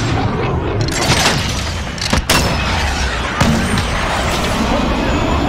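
Missiles strike in a Call of Duty team deathmatch, heavy booming blasts with rumbling debris standing out over continuous battle noise, while voices speak over the action.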